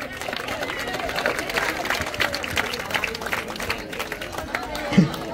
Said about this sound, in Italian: Un applauso anche per i giocatori di calcio.